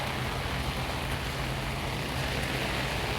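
Heavy early-morning downpour in the Donholm area of Nairobi, Kenya, a dense, steady roar of rain hitting surfaces, loud and unbroken throughout with no voices.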